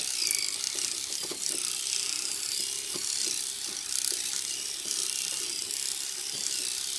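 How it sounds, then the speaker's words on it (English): An old electric toothbrush scrubs inside the radiator filler neck of a Subaru EJ cooling system, giving a steady close buzzing whir with small rattling clicks as the bristles scrape the metal, heard alone without talk. "I've got an old electric toothbrush. Stick it down in the neck."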